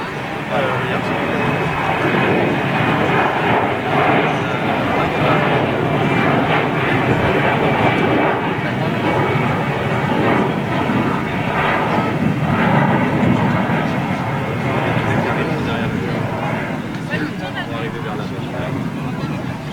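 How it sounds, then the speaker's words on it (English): An Airbus A220 airliner on approach during the Airbus 50th anniversary fly-past at Toulouse gives a continuous loud engine roar, steady for about twenty seconds. People talk over it. "we have the A220 on approach"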